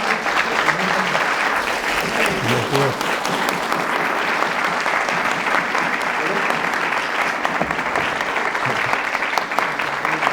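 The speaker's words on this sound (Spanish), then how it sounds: "yo pido una vez más un fuerte aplauso para Roger" Sustained, dense applause from an audience after a lecture on history and the humanities by Roger Chartier, steady and loud throughout with no break, crowd noise mixed under the clapping.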